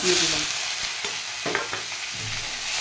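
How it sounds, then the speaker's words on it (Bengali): Pointed gourd peels fry in a hot wok with a steady sizzle, while a spatula stirs and scrapes against the metal in several short, close knocks. "কড়াইতে এবার পটলের খোসাগুলো"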